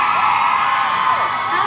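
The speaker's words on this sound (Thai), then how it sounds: "กรี๊ดดังๆกรี๊ดมาได้นะคะ" A large crowd screams and cheers continuously, loud and close, with whoops and shouts blending into a sustained roar.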